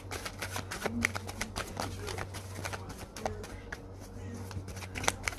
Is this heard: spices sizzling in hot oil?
no